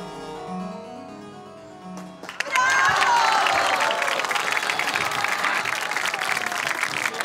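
Audience applause breaks out on a stage show at about two seconds, loud and sustained with a dense clapping wash, after a quiet stretch of low voices and faint tones.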